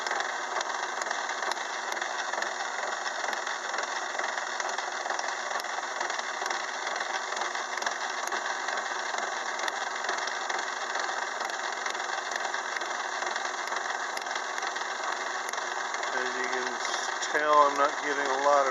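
A milling attachment on a lathe, its short arbor supported by the tailstock, cuts a 44- or 24-tooth gear with a steady, even mechanical whir and hum that shifts slightly near the end.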